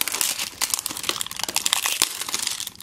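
A Pokémon HeartGold booster pack being torn open by hand, with close, continuous crinkling and ripping foil and paper in quick irregular bursts.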